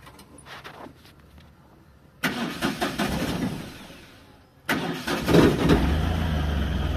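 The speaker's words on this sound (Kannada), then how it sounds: "ಗಾಡಿ ಸ್ಟಾರ್ಟ್ ಆಯಿತು." An Ashok Leyland Dost light truck engine cranking with the ignition on and catching, two bursts of cranking separated by a pause, then the diesel settling into a loud steady idle close by.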